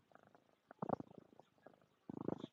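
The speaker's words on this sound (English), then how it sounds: "Can you hear her purr?" A soft, low rumbling purr comes through in uneven bursts, close and quiet, swelling louder near the middle and again at the end.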